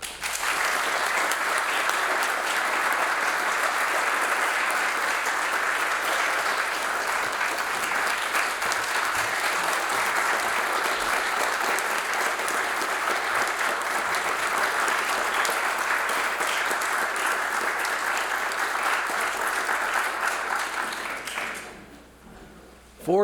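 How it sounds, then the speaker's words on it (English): Sustained warm applause from a symposium audience welcoming the chief organizer and host at a prize opening, loud and steady for about twenty seconds before fading out abruptly near the end. "join me in a warm welcome and applause of thanks to the chief organizer and host of our symposium"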